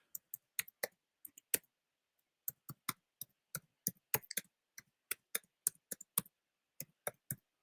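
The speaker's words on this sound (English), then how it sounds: "I'm typing something." Keys on a computer keyboard clatter in short, irregular bursts of crisp clicks, close and fairly quiet, with a brief pause partway through.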